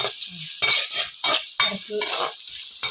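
Food frying in a pan in a village home kitchen, a close crackling sizzle broken by loud bursts of stirring and scraping as the pieces are turned.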